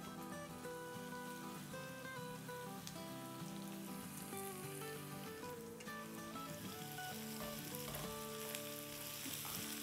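Curry leaves sizzling and crackling as they fry in hot oil in a pan for a quick breakfast dish, a steady close hiss with small pops under soft background music.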